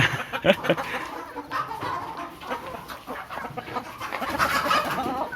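Several chickens cluck and fuss nearby, their calls rising and falling over a rustling, cluttered background.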